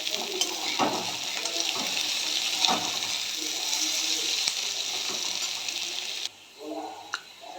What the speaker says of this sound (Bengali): পেঁয়াজটা বেশ ভাজা ভাজা হয়েছে।